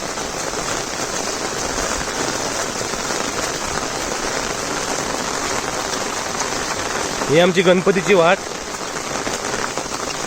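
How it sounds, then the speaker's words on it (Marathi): Heavy monsoon rain in Konkan keeps up a steady, dense hiss of drops on surfaces, while someone speaks briefly over it partway through. "भरपूर म्हणजे भरपूर पाऊस लागता"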